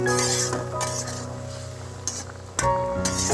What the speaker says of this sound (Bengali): সুন্দর ঢাকনাটা উঠিয়ে আবার একটু নেড়ে চেড়ে নিলাম